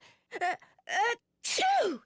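A sneeze from a character in the Nancy Drew video game Ghost Dogs of Moon Lake, in a dusty room: a couple of short indrawn gasps build up, then one loud, close, voiced sneeze.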